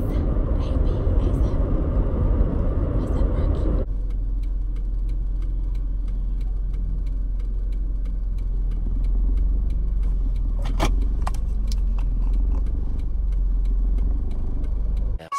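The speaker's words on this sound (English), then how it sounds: "I have to get my car fixed, y'all. That's why it's so loud and y'all can hear everything." A car in need of repair runs loud, with a deep steady engine rumble heard from inside. The noise drops to a quieter idle-like drone a few seconds in and continues throughout.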